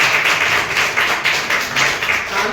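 A seminar audience claps in a steady, rhythmic pattern, several evenly spaced swells of massed hands clapping in unison without speech.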